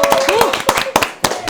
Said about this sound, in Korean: 이 환호